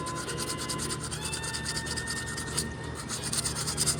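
Sandpaper rubbed back and forth over a glued wood joint on an antique rocking chair, a steady close rasping scrape with rhythmic strokes throughout.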